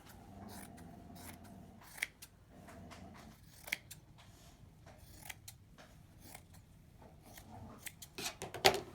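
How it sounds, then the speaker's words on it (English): Scissors snip through a sweatshirt seam in a series of quiet, irregular cuts, each a short crisp crunch over a low fabric rustle, ending in a few louder snips. "And then I cut along this seam"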